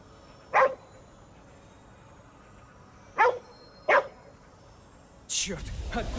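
A dog in GhostWire: Tokyo barks three times in short sharp bursts spaced a few seconds apart, moderately near, followed by a louder crash of noise at the end.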